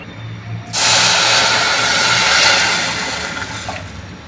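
A gas stove flame is turned up high beneath a pot of sugar syrup for gulab jamun. A close, loud broadband hiss starts abruptly and holds steady, then eases slightly toward the end.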